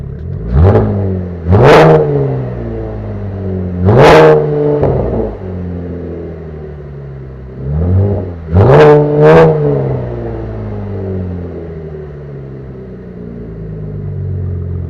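A Chevrolet Camaro engine revs in several sharp bursts, loud exhaust roaring up and dropping back to a rumbling idle between blips, close by with no talking.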